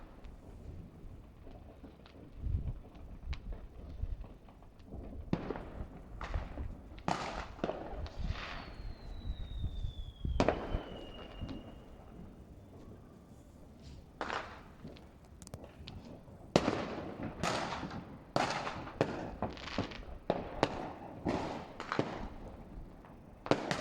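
New Year's Eve fireworks for 2022/23 in Beuern, Germany, heard from afar: scattered booms and crackling bursts from several sources arrive irregularly, with a whistling rocket rising partway through and a rumbling background between reports.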